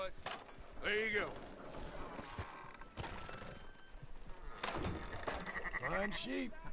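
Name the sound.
sheep bleating in the video game Red Dead Redemption 2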